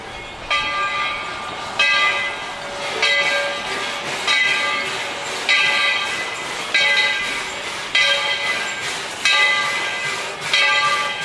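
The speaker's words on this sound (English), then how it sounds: "we remain seated until the train has come to a safe and complete stop. And the train cars have finished rolling backwards." A narrow gauge steam train on a heritage railway clanks along in loud, regular rhythmic beats over a constant steamy hiss, heard up close.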